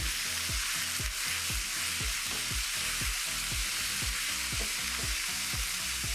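Protein sizzles and fries in a thin, even layer of hot oil in a pan, a loud, continuous crackle with rhythmic stirring or scraping strokes throughout.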